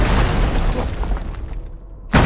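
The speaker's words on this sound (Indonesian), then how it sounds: "bukan pasukan bantuan yang datang, melainkan serangan mengerikan meriam dari musuhlah yang datang" Enemy cannon fire in an attack, heard as a low rumbling roar that fades before a sudden loud blast bursts in near the end.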